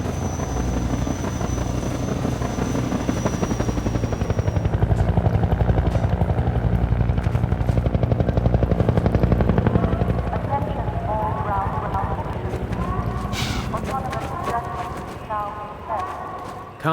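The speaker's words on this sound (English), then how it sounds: "here is where we fully introduce the main boss of the Canals chapter, the Combine Attack Helicopter" The Combine Attack Helicopter in Half-Life 2, its rapid, thumping rotor chop droning loudly and continuously, with a voice speaking over it.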